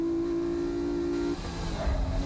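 Race cars pull away from the start at Fuji, including a turbocharged Nissan S15 Silvia and an Amuse S2000. A steady engine drone holds, then breaks into louder rough revving as the cars accelerate.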